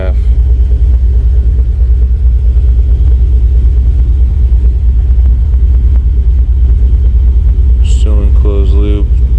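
A 1994 OBS truck with an LS engine swap idles low and steady, a deep continuous rumble filling the whole stretch, with a voice briefly speaking near the end.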